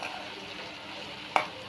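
Snake gourd being stirred in a frying pan with magic masala added, a soft continuous scraping and sizzle with one sharp clink of the utensil near the end.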